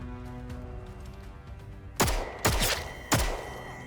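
Three heavy gunshots or blasts in a combat scene from the video game Atomfall, loud and evenly spaced over a low rumbling background, with no speech.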